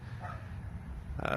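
A dog gives a short bark near the end, after a brief stretch of quiet room noise.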